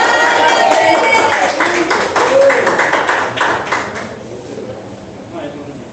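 A church congregation claps together in a loud, rhythmic burst with voices mixed in, the clapping easing off toward the end.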